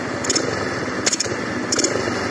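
A Rusi Passion motorcycle fitted with a D-type carburetor idles steadily and blips its throttle three times, each short rev rising sharply over the close, constant engine drone.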